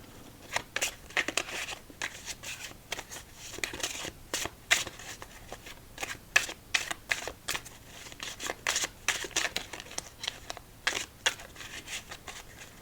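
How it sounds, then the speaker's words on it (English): Playing cards from the Maidens deck get a quick casino-style shuffle in a close, quiet solitaire setting, with crisp repeated riffles and papery flicks coming in uneven bursts throughout, and no one talking. "Let's do a quick casino shuffle after that."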